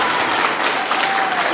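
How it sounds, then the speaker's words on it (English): Dense, steady applause from an audience at a school spring arts festival, honoring the custodial staff, filling the short stretch loudly and evenly without pause. "please give them a round of applause"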